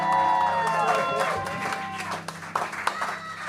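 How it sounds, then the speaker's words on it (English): An audience cheers and claps over background music, with a few sharper claps standing out as the noise settles. "Zach Amico, make some noise for him, everybody."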